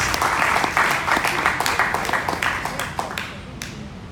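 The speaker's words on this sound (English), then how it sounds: "Give a round of applause." Audience applause at a Seattle pitch event, dense clapping that thins out into scattered individual claps over about four seconds.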